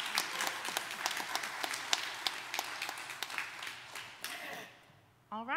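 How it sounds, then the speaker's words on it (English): A church congregation applauds a singer during a traditional service, dense clapping that fades out near the end before a voice starts speaking. "I think she deserves another round of applause"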